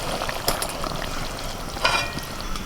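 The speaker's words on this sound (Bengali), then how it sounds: "কড়াইতে সর্ষের তেল দিয়ে দিয়েছে তেলের মধ্যে ফোড়নে দিচ্ছি তেজপাতা শুকনো লঙ্কা গোটা জিরে পেঁয়াজ কুচি" Whole spices, bay leaf, dried red chilli and cumin, spitting in hot mustard oil in a wok, a steady close crackle with two brief louder pops.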